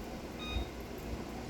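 A kitchen timer gives a brief pair of faint, high-pitched beeps while being set during crunchwrap cooking, heard over steady low background hiss and rumble.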